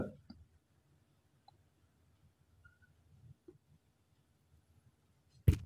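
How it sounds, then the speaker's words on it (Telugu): A computer mouse clicks a few times, sparse, quiet and sharp, with long near-silent gaps between them and a louder final click at the end. "దీని మీద క్లిక్ చేయాలన్నమాట"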